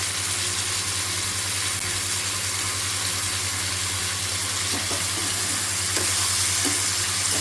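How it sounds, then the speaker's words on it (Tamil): Dried red chillies and a green chilli sauté with tomatoes in hot oil for a spicy tomato chutney, giving a steady close sizzle with a low hum and a few soft stirring clinks near the end. "நல்லா வதக்கிக்கலாம்."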